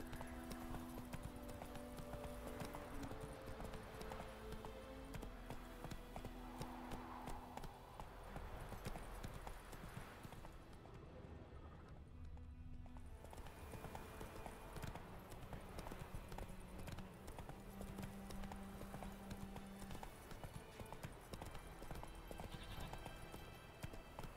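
Rhythmic hoofbeats of the horse Roach galloping in The Witcher 3, steady and fairly close over a continuous game soundscape with a brief quieter dip midway.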